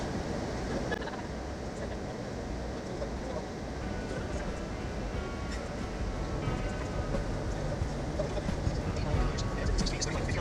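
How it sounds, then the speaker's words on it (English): A westbound Union Pacific tanker train passes with a continuous low rumble and rail noise, steady and fairly loud throughout, heard from a moving train. "We then pass a westbound Union Pacific tanker train."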